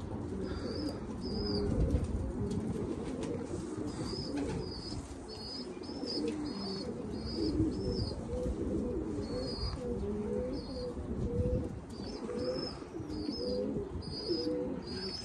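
Domestic pigeons in a loft coo in repeated low rolling calls, with occasional higher chirps and faint wing flaps, a steady flock chorus close by throughout.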